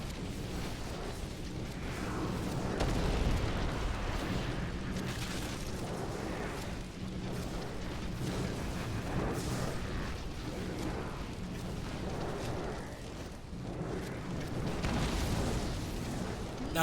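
Repeated meteor spell explosions from a Tal Rasha build in Diablo 3 roll in a dense, continuous wash of booming impacts and rumbling bursts, with game effects layered throughout and no pauses.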